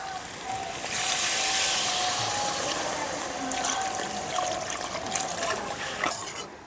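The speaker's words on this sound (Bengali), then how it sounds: "এখন আমি এর মধ্যে দিয়ে দিচ্ছি জল।" Water poured from a vessel into spiced potatoes in a pan while cooking rui fish curry, a steady close trickle and splash that swells after the first second and continues for several seconds.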